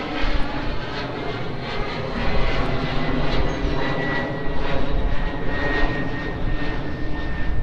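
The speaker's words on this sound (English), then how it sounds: "And there's another jet." A jet airplane passes overhead near a busy airport, a loud, steady broadband roar that fills the whole stretch and swells slightly midway, with no voices over it.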